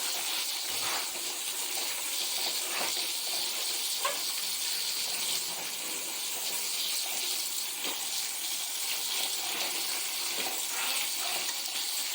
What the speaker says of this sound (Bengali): আর দেখো, এখানে ঘি তৈরি হচ্ছে,